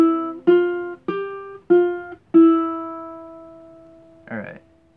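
Ukulele plucking a phrase: five distinct notes in an even rhythm, the last left ringing and fading, followed by a brief soft noise near the end.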